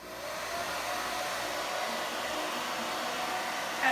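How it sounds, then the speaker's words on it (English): A portable soft-bonnet hood hair dryer runs on its warm, low setting, giving a steady, even blowing whoosh throughout with a slight swell right at the end. "I'm gonna go ahead and turn on the blow dryer. I'm gonna put it on the warm setting and I'm gonna turn it on low."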